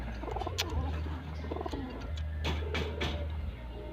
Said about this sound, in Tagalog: Kaya paborito ko tong kalapati na to.